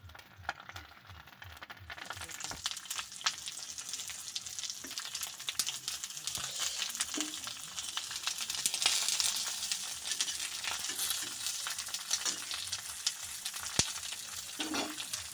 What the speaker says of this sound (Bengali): তেল গরম হয়ে গেছে, এবার একটা করে পাতুরি কড়াইতে দিয়ে দেবো